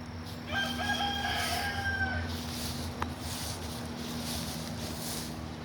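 A rooster crows once at moderate distance over steady background hum, with soft outdoor ambience afterward.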